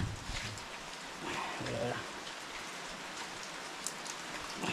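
Heavy rain falls in the jungle, a dense continuous patter of drops on surfaces close by, with people talking over it.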